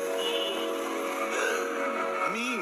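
A cartoon car from Pocoyo skids with a short, bright tire squeal whose pitch bends near the end, over a busy, cheerful animated soundtrack.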